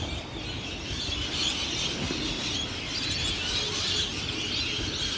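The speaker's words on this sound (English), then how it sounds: "Bird sounds are amazing." A dense chorus of many birds calls continuously by the water at sunset, a loud, steady wash of chirps and tweets with no pauses and no voices.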